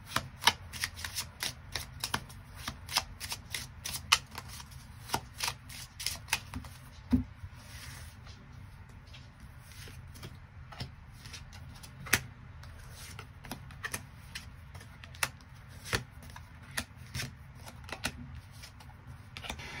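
Tarot cards shuffled steadily by hand in a quiet room, a rapid run of crisp riffling clicks and soft snaps repeating close up with no talk.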